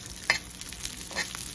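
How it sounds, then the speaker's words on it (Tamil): Cashews and almonds frying in ghee over low heat for Coimbatore-style China grass sweets, a faint steady sizzle with a couple of brief stirring scrapes. "இந்த முந்திரியமும் பாதாமும் நல்லா நெய்யிலே வறுத்து"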